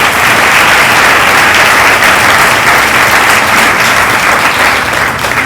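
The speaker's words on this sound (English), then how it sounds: "Let's give her applause." Loud, sustained applause from diners at a pregnancy care center banquet in 2015 for a state representative, a dense, even roar of many hands clapping close and strong throughout.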